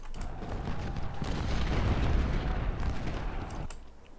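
Cannon artillery fires in the Ultimate General Civil War video game at Cold Harbor, a long, rumbling, heavy boom that swells and fades over several seconds, loud and unbroken by speech.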